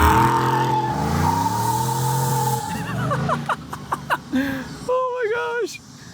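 A supercharged Chevrolet Silverado pickup accelerates hard in 2-wheel drive, its engine note climbing through rising gear sweeps and shifts before fading, with people talking and exclaiming over it.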